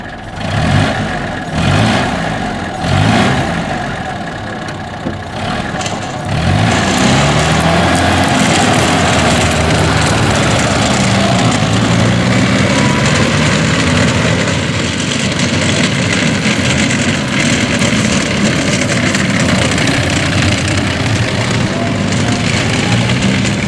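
An NSU Kettenkrad HK 101 half-track engine starts up after a few rough bursts, then runs loud and steady at close range for the rest of the stretch, with no voices.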